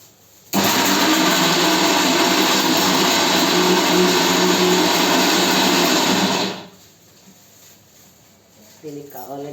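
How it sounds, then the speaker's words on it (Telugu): Mixer grinder blending ridge gourd chutney: a loud, steady motor whine starts abruptly, runs for about six seconds, then cuts off, followed by faint room sound and a brief voice at the end. "మిక్సీ తిప్పేద్దాము"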